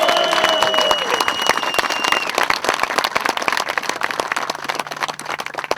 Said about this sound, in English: So I think we owe them a round of applause.